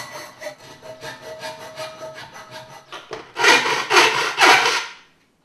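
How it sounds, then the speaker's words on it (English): Hand file working a square panel cutout to the line in sheet metal, rasping in repeated strokes: lighter rhythmic strokes at first, then several loud, harsh, close passes near the end. "And then file to your line on all sides."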